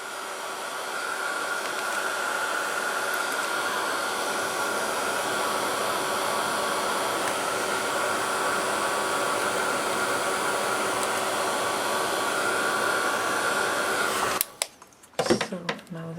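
Heat tool blowing hot air steadily to dry glue on a paper mini album, a loud continuous whooshing hum that cuts off abruptly near the end with a few clicks and handling noises.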